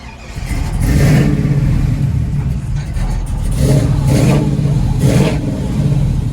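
A 1968 Chevrolet Camaro RS engine cranks and catches, then revs repeatedly in loud rising bursts, a throaty rumble idling between each push of the throttle.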